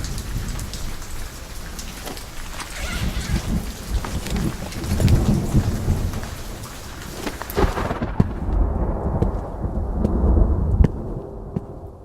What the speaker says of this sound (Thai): เขานี่แหละพายุนาคา